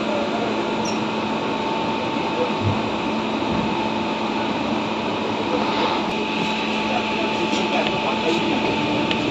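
A Barbil Janshatabdi Express train (12021) runs from Howrah toward Kharagpur, with a steady, loud broadband rumble and drone filling the whole span, heard from inside a nearly empty carriage.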